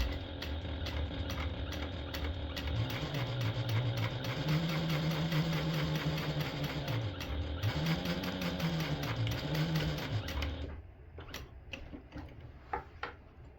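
A sewing machine backstitching across the handle of a small interfaced fabric tote, a steady close rapid whir whose motor pitch rises and falls before it stops and leaves faint clicks.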